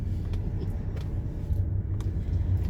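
Steady low road rumble inside a car cruising on a quiet road near Angoulême, with a few faint ticks and knocks over the even engine and tyre drone.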